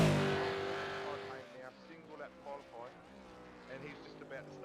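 Race car in a top-10 single-lap qualifying shootout at Donington, heard on board on a flying lap: a loud engine rising through the gears and then cycling up and down, with someone talking over it.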